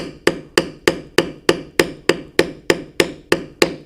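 Steady, evenly spaced taps of a metal beveling tool struck with a mallet on tooled leather, about thirteen crisp knocks in a regular rhythm, close and loud with no talk.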